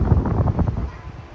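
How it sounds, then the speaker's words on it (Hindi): Wind blowing outdoors beside a river in Phander Valley, Gilgit-Baltistan, a steady rough rush buffeting the microphone, loud and continuous. "बड़ी मज़े की हवा चल रही है"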